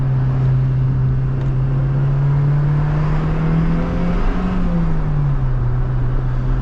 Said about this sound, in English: You can hear the turbo on this car